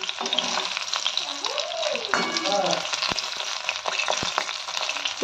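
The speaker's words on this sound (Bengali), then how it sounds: "ভালো করেই ভাজছি।" Boiled flat beans with chili and garlic fry in oil in a home kitchen, giving a steady close sizzle with scraping stir strokes and a few sharp knocks of the utensil, while a voice talks briefly.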